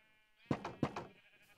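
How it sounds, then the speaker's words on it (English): Sheep bleat in the Minecraft video game, a couple of short wavering baas close together, quiet and alone. "If we want to let the sheep out, we can let them out."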